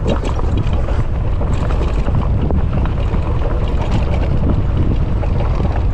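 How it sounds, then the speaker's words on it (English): Loud, continuous wind buffeting the microphone while riding an e-bike downhill at about 17 mph, a heavy low roar with no pauses and no voices. "It's a little bit windy over here, very windy."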